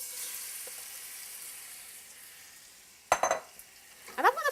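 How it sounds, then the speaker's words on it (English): Shrimp hitting hot oil to sauté, with a steady fizzing sizzle that slowly fades. A couple of sharp clattering bursts of pan and utensil contact break in near the end. "now that my oil is nice and hot, I'm going to saute it in my oil"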